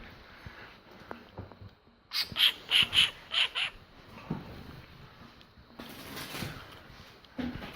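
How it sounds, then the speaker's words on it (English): A bird trapped inside a house gives a burst of about five sharp, fairly loud chirps in quick succession, then quieter indoor shuffling and rustling follows. "there's a bird in my house right now"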